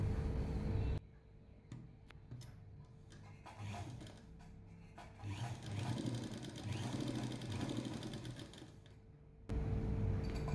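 A sewing machine runs a long, loose gathering stitch about half an inch wide on a readymade top being altered from 5XL to XL, a steady mechanical whir with brief stops and restarts, moderately close with no talking.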